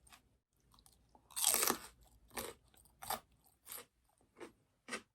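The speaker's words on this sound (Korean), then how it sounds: "야채의 사운드가 양배추가 참 좋은 것 같습니다." Crunchy chewing of raw cabbage, with a loud first bite followed by several distinct crisp crunches spaced about half a second apart, very close in an otherwise quiet room.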